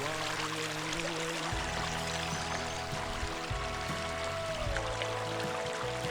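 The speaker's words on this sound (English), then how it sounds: "The water flowing into the tributary of Straight Lake" Water pours and trickles steadily into a tributary of Straight Lake in a state park woodland, a moderately quiet, continuous babbling flow with no voices.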